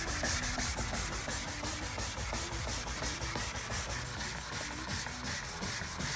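An 80-grit pad scrubs across a car body dent being repaired, giving a close, continuous rhythmic rasping with steady back-and-forth strokes and no talking.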